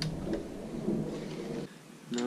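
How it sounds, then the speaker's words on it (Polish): A thunderstorm rumbles outside a workshop where a Honda TRX 450 cylinder head is being reassembled, producing a low, rolling roar that fills the whole moment and fades near the end. "grzmi."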